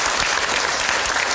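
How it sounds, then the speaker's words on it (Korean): Dense audience applause fills a short burst at an Irish history talk given to Korean listeners, steady and close with no voices over it. "박수 한번."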